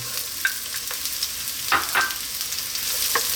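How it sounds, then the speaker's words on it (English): Sunflower oil sizzles steadily as onions fry in a wok over fairly lively heat, with a few clinks and scrapes of a utensil stirring the pan. "We're going to start off by dropping in our onion."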